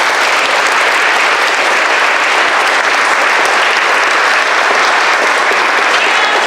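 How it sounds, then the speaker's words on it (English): A crowd at a school Black History program claps in a loud, sustained round of applause, a dense wash of many hands that holds steady throughout without talking. "let's just give one more big round of applause for us."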